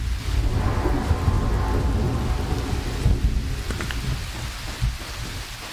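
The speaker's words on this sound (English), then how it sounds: "this rain effect is making me feel soaked to the skin" Heavy rain and rolling thunder from a video game storm fill the scene with a dense, steady downpour, low thunder rumbling beneath it and a few sharper drops and cracks, loud and without talk.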